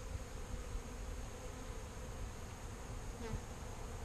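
Honey bees from a package hive install give off a steady, dense buzz that holds at an even level throughout, with no one talking.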